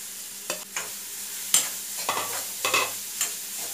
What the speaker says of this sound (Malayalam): ഇത് നമുക്ക് ഈ വെളിച്ചെണ്ണയിൽ ഒന്ന് വഴറ്റിയെടുക്കണം.